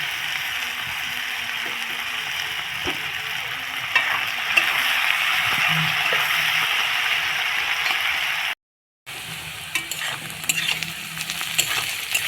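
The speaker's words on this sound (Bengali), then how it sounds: "এবার এর মধ্যে আমি কুচিয়ে রাখা পেঁয়াজগুলো দিয়ে দেব।" Chopped onions sizzle and crackle in a hot pan for chicken curry, a steady close frying hiss with occasional stirring scrapes and a brief gap of silence near the end.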